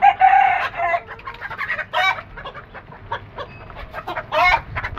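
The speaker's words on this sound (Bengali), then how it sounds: "আমার টাইগার মোরগ মাশাআল্লাহ ডাক দেয় অনেক বড়।" A tiger rooster crows loudly and close by, a long drawn-out call with harmonic bursts, followed by further crowing and clucking of fowl.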